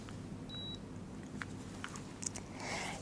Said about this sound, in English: take out the battery protector and you should hear a beep